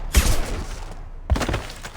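Gunfire in the Mass Effect 2 video game: two sharp bursts of shots about a second apart, each with a hard attack and a short ringing tail, loud and close with no talking.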